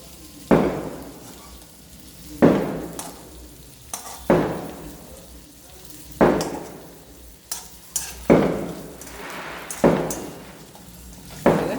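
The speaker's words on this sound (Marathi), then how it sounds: "आता त्या कारल्याची मागची साईड तळते" Stuffed bitter gourd (karela) frying in oil in a pan, with a scraping stir or turn about every two seconds over a steady low sizzle, close and fairly loud, no voices.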